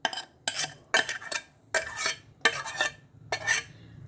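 A spoon stirs a masala of coconut, peanuts and cumin through a pan for a cluster bean curry, making six distinct scraping clatters in a quick, uneven rhythm, close and clear with no talk.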